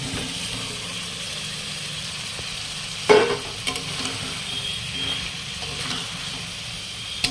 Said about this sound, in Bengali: এইবারে দিয়ে দেবো বেজে রাখা আলু আর পটল